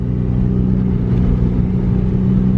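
A $400 car with a 4-speed automatic drives and accelerates on a farm road, its engine droning steadily and loud with a low rumbling hum throughout, no voices.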